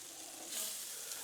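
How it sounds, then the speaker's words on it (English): A tab of butter sizzling on a Blackstone griddle for toasting burger buns, a soft, steady hiss that is faint and close, briefly swelling midway. "So I'm gonna throw down a little tab of butter right there"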